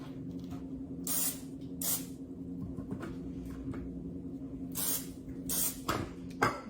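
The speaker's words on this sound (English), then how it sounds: "I'm just gonna give them a good spray down with some spray olive oil" Spray olive oil misted onto raw shrimp for blackened shrimp tacos, heard as several short, near hissing bursts of spray separated by pauses over a low steady background hum.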